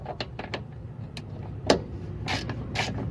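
Ratchet tightening the bottom bolt on a rear strut of a 2004 Nissan Sentra 1.8, with close, uneven mechanical clicks and creaks and a few sharper pawl snaps.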